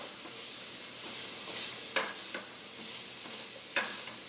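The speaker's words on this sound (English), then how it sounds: "Get that frying a little bit." Onion powder, garlic powder and coriander fry in a pan for kedgeree, a steady close sizzle with occasional scraping stirs and a few sharp clicks of a utensil against the pan.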